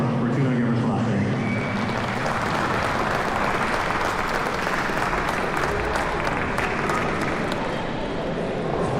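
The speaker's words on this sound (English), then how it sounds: "So please give a round of applause for Fortuna Gebrselassie." An audience at a Tigrayan community event in Minnesota greets the keynote speaker with sustained, loud applause, a thick roar of many clapping hands and crowd murmur holding steady throughout.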